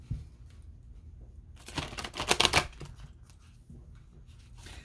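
A deck of tarot cards being shuffled by hand, close and moderately loud, with a burst of riffling crackle in the middle and softer handling before and after.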